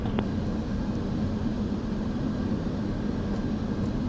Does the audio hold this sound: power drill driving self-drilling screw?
no